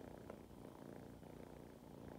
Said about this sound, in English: She just wants to purr.